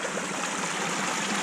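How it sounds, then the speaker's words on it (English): Water rushes through a dug ditch below a broken earthen dam, a steady close hissing gush with bright splashing texture and no voices. "the hydraulics of all this water coming down through this ditch will continue blowing it out"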